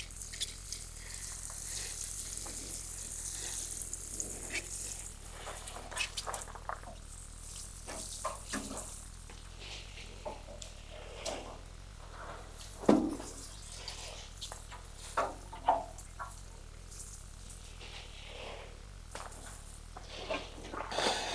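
A garden bed being watered, a steady hiss and patter of water spraying onto soil and plants, with scattered louder splashes and drips throughout, carrying on for around twenty seconds without speech.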